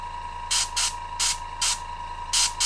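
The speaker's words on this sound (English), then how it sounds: "You can spray up in here to modify that sash." An airbrush sprays paint onto a painted miniature's sash in short, repeated hissing bursts, five or six close puffs separated by brief pauses over a steady faint hum.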